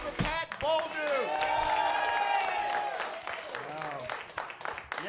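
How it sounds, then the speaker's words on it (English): Audience applause for comedian Pat Bolduc at a Chicago comedy show, a sustained wash of clapping under a host's voice talking over it. "One more big round of applause for Pat Bolduc."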